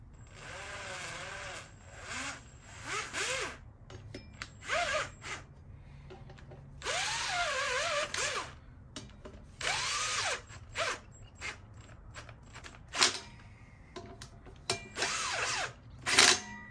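An impact gun fastening the wheel nuts on a Harley rear wheel runs in repeated short bursts of whirring, rising motor whine, with gaps between them, close and fairly loud, over a faint background hum.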